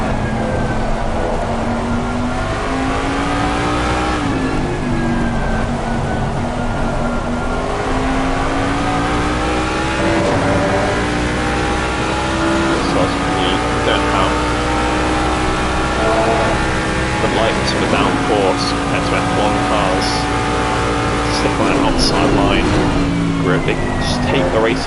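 On-board sound of a Mustang GT3 race car lapping the Nürburgring in a sim racing league, a loud, steady engine tone climbing and dropping through gear changes, with a commentator talking over it.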